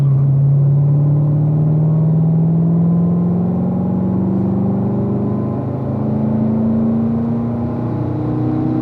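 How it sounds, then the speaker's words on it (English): A car accelerating at full power through a corner on a track, its engine a loud, close, steady drone rising slowly in pitch as it pulls through the bend. "Turn the wheel, unwind, and accelerate."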